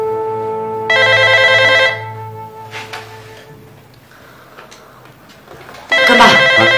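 A telephone bell rings loudly in two bursts, separated by a quieter stretch of room noise and faint movement.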